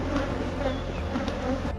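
Honeybees buzz steadily at a beehive in spring, a dense continuous drone close by with no voices over it.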